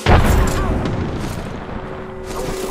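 A thermite grenade bursts in the game Apex Legends, a loud booming explosion at the start followed by a sustained roaring burn and crackle, with gunfire and battle noise around it.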